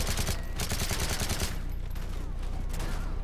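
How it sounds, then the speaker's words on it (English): Rapid automatic gunfire from a squirt gun weapon in the Modern Warfare 3 campaign, a dense rattling burst that stays loud and steady through the whole stretch. "Oh, they're using the squirt gun."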